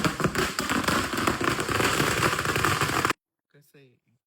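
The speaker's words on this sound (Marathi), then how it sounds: "डायरेक्ट फटाक्याची माळ लावतोय नाही का" A string of 1000 firecrackers goes off in a loud, rapid, densely packed crackling volley for about three seconds, then stops abruptly, leaving silence and a short voice.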